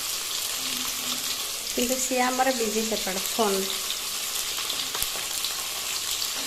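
A whole fish fries in hot oil, giving a continuous close sizzle and spatter while a person speaks briefly over it.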